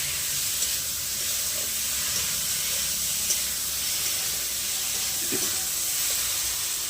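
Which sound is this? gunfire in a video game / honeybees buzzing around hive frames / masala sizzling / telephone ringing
masala sizzling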